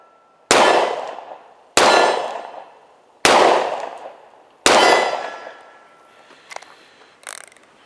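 A Charter Arms Undercover .38 Special revolver fires four loud, sharp shots at a steady pace, each ringing out and decaying, followed by a few faint metallic clicks.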